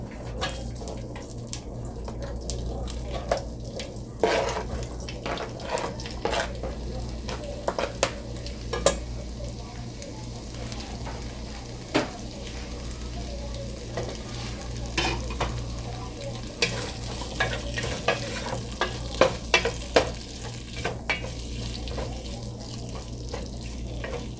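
Tilapia fish fries in hot oil on a stove with a continuous low sizzle, broken by frequent clinks and scrapes of utensils against the pan.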